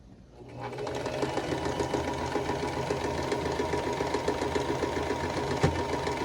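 A sewing machine stitching quilt block pieces runs steadily and close by, a fast even mechanical chatter after a brief quiet start, with a light rattle and no speech.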